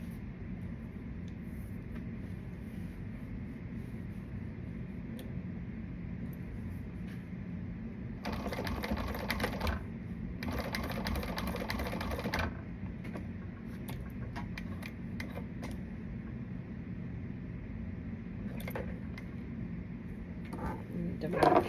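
A domestic sewing machine stitches fabric for an Allegra pattern in short bursts, running twice for a few seconds each in the middle, with quieter mechanical sounds and soft room noise in between.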